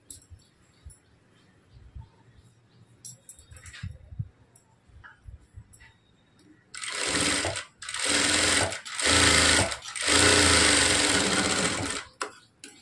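A sewing machine stitches a plain blouse in several loud, whirring bursts of a few seconds each after quieter handling sounds and fabric rustling.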